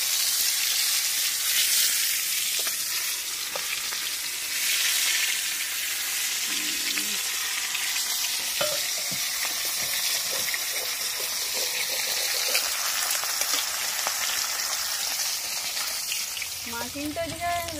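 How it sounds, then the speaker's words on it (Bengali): Fish frying in hot oil in a pan, cooked outdoors beside a river, with a steady, dense sizzle running throughout and faint clinks of utensils. "আমি মাছটা ভেজে নিচ্ছি"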